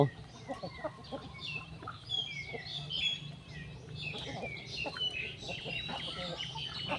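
Chickens cluck and call repeatedly close by, with scattered chirps and a faint human voice mixed among them.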